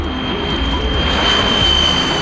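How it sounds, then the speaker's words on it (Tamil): An airplane roars overhead in a continuous, loud jet-engine rumble with a steady high whine on top, filling the whole moment without speech. "உன் டெல்லி ஃப்ளைட்டு போயிந்தி பட்"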